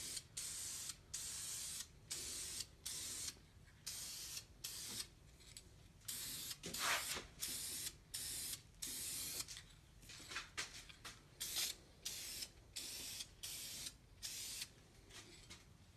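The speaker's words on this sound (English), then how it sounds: "make sure you shake up the can adequately and then just do a light tack coat." Aerosol spray can applying a light tack base coat to a wheel, repeated short hissing bursts in a steady rhythm, fairly faint and close, with a longer spray pass around the middle.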